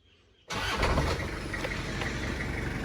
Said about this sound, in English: So I'll start up the old Hilux, get the master cylinder going.